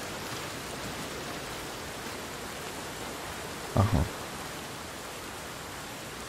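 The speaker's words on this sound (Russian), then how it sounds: "Я, ну, водопад, но шумно." Waterfall in the video game Blacktail: a steady, fairly quiet broadband rush of falling water runs unbroken throughout, with a brief spoken interjection near the middle.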